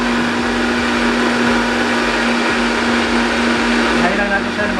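A powerful blender making a moringa smoothie whirs loudly and steadily with a constant high motor drone, changing pitch slightly near the end.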